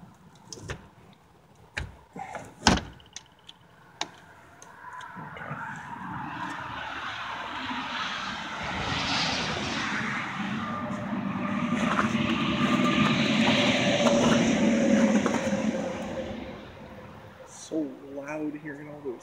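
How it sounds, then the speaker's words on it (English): Heavy trucks rumble past nearby, the broad roar swelling and fading over several seconds, preceded by a few sharp knocks and thumps, heard from inside an abandoned house in Plattsburgh, New York. "Hearing all those trucks going by"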